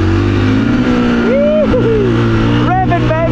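Off-road buggy engine revving at an enduro event in Bulgaria, a loud, close, steady engine drone with rising and falling rev sweeps, accompanied by talk.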